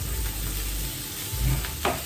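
Sausages frying in oil in a cast iron pan, a close steady sizzle with a couple of brief pops and stirring sounds near the end.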